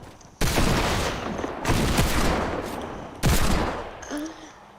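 Three loud bursts of rapid gunfire from shooting in Minecraft, each a dense sustained rattle starting abruptly and tailing off, close and dominant with no talk.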